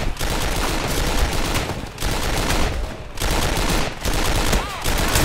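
Rapid, sustained K98 rifle gunfire and overlapping shots in a video game firefight, loud and dense with a few brief pauses, over a busy background of battle noise.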